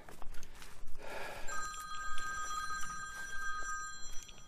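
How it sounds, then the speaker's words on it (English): A phone rings on a quiet northern Michigan hiking trail, its bright electronic ring starting partway in and repeating steadily, loud and close over soft outdoor background noise. "phone's ringing"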